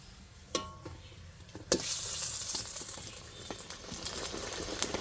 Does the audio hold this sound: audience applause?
no